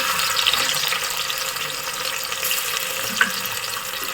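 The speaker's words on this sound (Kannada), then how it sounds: "ಸ್ವಲ್ಪ ಶುಂಠಿ ಬೆಳ್ಳುಳ್ಳಿ ಪೇಸ್ಟ್ ಸೇರಿಸ್ಕೊಂಡು ಹಸಿ ವಾಸನೆ ಹೋಗೋವರೆಗೂ ಫ್ರೈ ಮಾಡ್ತೀವಿ" Ginger garlic paste frying in a pan for a home-style Mandya boti gojju: a close, continuous hiss and sizzle, with a brief sharper crackle partway through.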